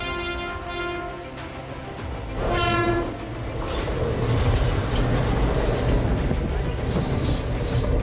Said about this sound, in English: the train was approaching fast towards them